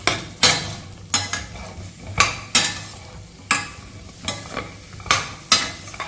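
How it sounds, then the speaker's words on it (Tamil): Carrot, onion and green chili are sautéed in a pan, with a spatula scraping in regular sweeps roughly every second over a light sizzle, close and clear without speech. "இதை நல்லா ஒரு வதக்கிடுவோம்"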